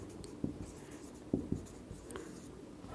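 A pen writing out a trigonometry worksheet solution, soft scratchy strokes and small taps at irregular intervals, close and faint, with no voice over them.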